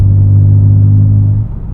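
A BMW G87 M2 fitted with an Eisenmann Race full exhaust, valves closed, gives a steady, loud, low droning rumble that holds evenly and eases slightly near the end, with no talking.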